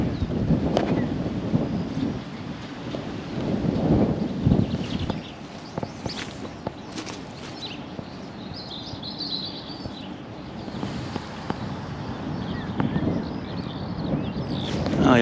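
Wind gusting across open fields near Burgh Heath and Kingswood, loud buffeting rumble that swells and eases through the clip, with scattered rustles and a few faint bird notes.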